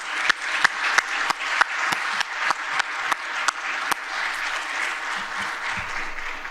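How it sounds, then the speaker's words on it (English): An audience at the Internet Hall of Fame induction ceremony gives a sustained round of applause, dense clapping with a few sharp, close claps standing out early before the ovation settles into a steady wash. "One final round of applause for all of our inductees."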